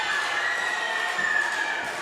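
A wrestling crowd at a Southern Legacy Wrestling event cheers in a steady, dense roar that holds for two seconds, with scattered shouts rising above it.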